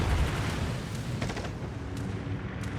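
Anti-aircraft guns aboard the battleship Colorado fire in a video game naval battle, a dense rumbling barrage with faint rapid pops over a steady low roar, no talking.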